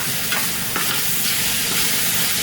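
A pot of stewed smoked herring being stirred, with a steady simmering hiss and soft scraping strokes close by, no voices.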